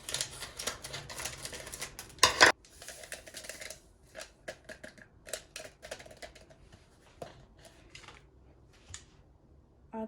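Sharp snipping and crinkling of plastic packaging, a loud cut near the start followed by scattered rustles and small taps, close by with no talking.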